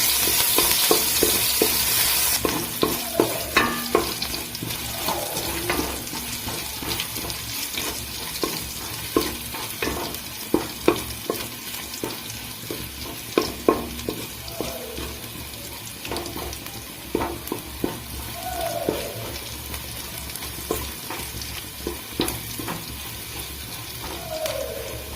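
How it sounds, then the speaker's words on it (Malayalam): Crushed ginger and garlic frying in a pan, a continuous close sizzle with repeated scraping stirs and occasional clinks of the spoon against the pan as the cooking goes on. "നമുക്കൊന്ന് ഇളക്കി കൊടുക്കാം."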